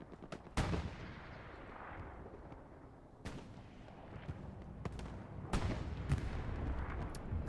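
Rocket launches and explosions during a World War II video game battle on the Driel map, several sharp booming blasts spaced irregularly over constant distant gunfire and rumble.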